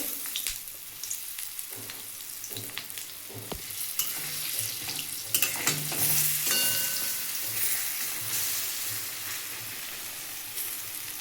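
A fish fillet frying in a pan with a steady, moderate sizzle, punctuated by a few soft knocks and scrapes as it is turned over.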